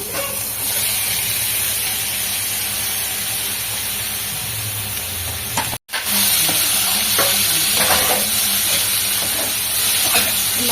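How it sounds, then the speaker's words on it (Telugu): Onions and tomatoes sizzle steadily as they fry in a pan for an egg omelette curry, with a continuous hiss and soft stirring scrapes, briefly cut off midway before carrying on without talk. "మంచిగా కలిపేసుకొని మొత్తం ఆనియన్స్ టమాటా మిక్స్ అయిపోయేలాగా కలిపేసుకోవాలి"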